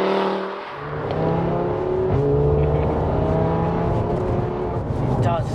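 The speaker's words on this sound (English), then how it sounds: "For me, the exhaust, I think it's the closest exhaust you'll get to an Audi AV RS3" A 535 bhp big-turbo Audi RS3 8P revs its exhaust, the engine note rising and holding in a loud, sustained growl, with people talking over it.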